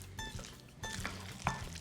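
A spoon stirring thick batter for Greek tomato fritters in a bowl, with soft scraping and sloshing strokes in an irregular rhythm, fairly close and steady throughout.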